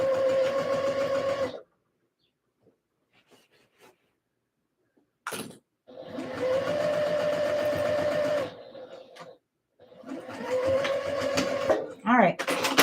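A sewing machine stitches a skort in a few loud, close bursts of fast whirring with pauses between them, and a voice speaks briefly in the gaps.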